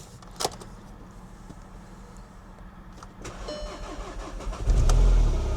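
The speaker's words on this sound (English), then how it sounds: "Let's try and crank it and see how bad this engine is then." An Audi S1 engine, bought as a non-runner, cranks briefly and then catches, rising into a steady running rumble that grows louder toward the end.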